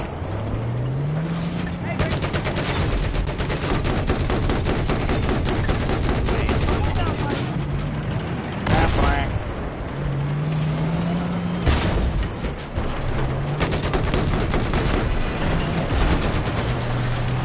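Flak anti-aircraft guns fire in a combat video game as a continuous, dense barrage of loud bursts and rapid thuds over a droning engine hum, with a few heavier booms standing out.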